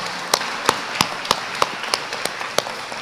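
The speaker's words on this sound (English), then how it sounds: "So give yourselves a big round of applause right now." Graduates at a class of 2025 promotion ceremony clap in sparse, scattered bursts: roughly eight sharp, distinct claps spaced about a third of a second apart over a faint background hush.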